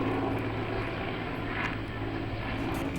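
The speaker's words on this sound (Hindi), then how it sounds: "सुबह से ही आसमान में हेलीकॉप्टर्स चॉपर्स मंडराते हुए नजर आ रहे हैं" MI-17 military helicopters circle overhead during an anti-Naxal operation in Bijapur, giving a steady, loud engine-and-rotor drone with a low throbbing hum that holds unbroken throughout, with no voices.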